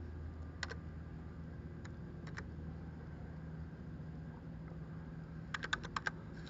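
A password is typed on a computer keyboard, with a few scattered soft key clicks followed by a quick run of taps near the end, faint and close over a low room hum.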